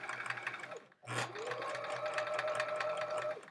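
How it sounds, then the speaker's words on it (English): Sewing machine stitching a quilt block at a slow, steady pace, a continuous close motor whir with a brief pause before it runs on evenly. "Sewing a little slower just so I can get my straight lines as straight as I can"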